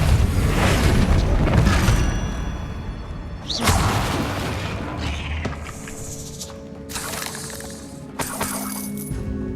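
A Confringo blasting curse goes off in the Hogwarts Legacy video game with loud explosive booms and shattering debris, a swooshing burst mid-way, then several sharp, bright crashes that ring out over a dense game soundscape.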